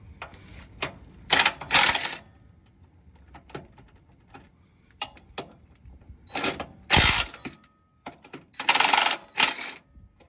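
A ratchet wrench loosens a control arm bracket bolt on a 1999 Infiniti QX4, with several bursts of rapid close clicking separated by quiet pauses.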